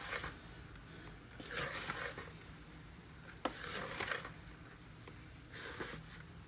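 Chicken pasta salad ingredients with lemon pepper being mixed together in a bowl, heard as bursts of soft, wet scraping and stirring separated by pauses, close and fairly quiet, with a single sharp knock midway and no talk.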